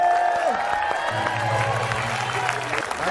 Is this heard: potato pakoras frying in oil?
no